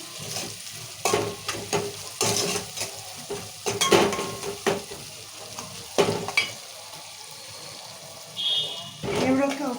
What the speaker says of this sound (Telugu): ఇక పసుపు ఉప్పు వేసినాం కదా కొంచెం ఒక ఒక నిమిషం ఇలా కలుపుకున్నాము